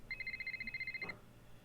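In the Nancy Drew game, a telephone rings with one rapid warbling electronic trill lasting about a second, quiet and clear over a faint low background hum.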